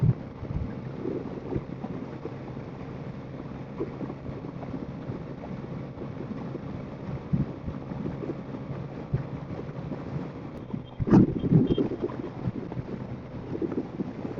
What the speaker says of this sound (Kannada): ಗಾಳಿ ನೆಕ್ಸ್ಟ್ ಲೆವೆಲ್ ಹೊಡೆಯುತ್ತೆ